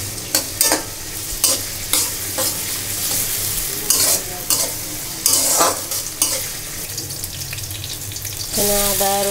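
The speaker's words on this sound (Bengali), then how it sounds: "কড়াইয়ের মধ্যে তেল দেওয়ার আগে পেঁয়াজটা দিয়ে দিচ্ছি" Onion is stirred in a wok on the stove, with sharp scraping and clattering bursts from the utensil over a soft sizzle and some running-water noise, ending on a steadier hiss.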